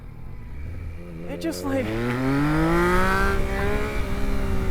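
A 2022 Yamaha MT-09 motorcycle accelerates hard and pulls up into a wheelie, its engine note climbing steadily in pitch from a low rumble to a loud rising roar, with wind noise and a rider talking over it.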